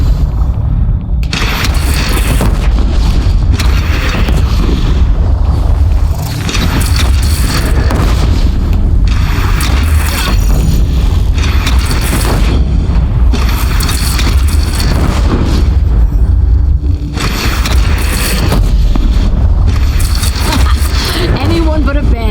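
Cannon fire and explosions in Horizon Zero Dawn Frozen Wilds, a dense, loud barrage of booms and blasts over a constant rumbling din, with shouting voices mixed into the battle.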